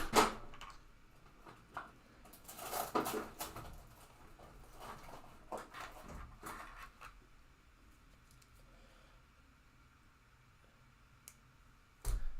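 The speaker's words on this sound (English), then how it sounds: "So I will cut this wire near the end." A wire is snipped near its end while fitting flaps to a UMX Voodoo model aircraft, giving a few sharp close clicks and cuts early on, then the bench goes quiet apart from faint handling noises.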